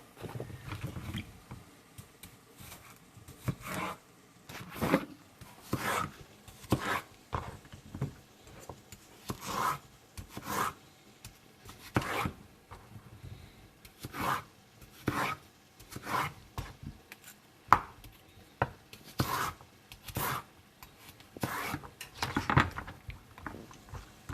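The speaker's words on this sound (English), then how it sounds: "You want to cut your celery up." A knife chops celery stalks on a cutting board, irregular crisp knocks and rubbing scrapes at close range, with brief pauses between bursts of cuts.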